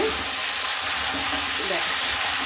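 Green peas fry in a pan with salt and turmeric, giving a steady, close hiss of sizzling oil with faint stirring scrapes and no talking.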